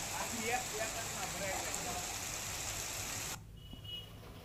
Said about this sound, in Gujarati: ગીર જંગલ વિસ્તારમાં વરસાદ વરસી રહ્યો છે